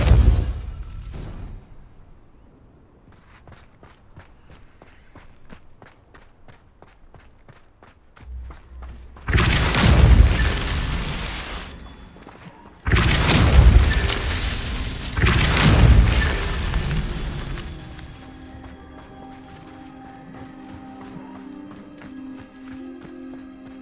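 Depulso force spell cast in Hogwarts Legacy, heavy booming thuds that burst out in two loud bursts over quiet game ambience, with lighter footsteps and rumble between.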